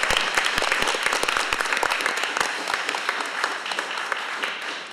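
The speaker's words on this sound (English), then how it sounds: "Can we not just give him an applause?" Applause from attendees at a CHA board meeting, a sustained wash of many hands clapping with sharp individual claps standing out, steady and fairly close.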